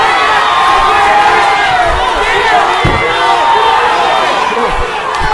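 Loud, dense crowd cheering and shouting fills an amateur MMA bout between Brandon Maynard and Adam Gould, a continuous roar of many voices with a few thuds and a commentator talking over it.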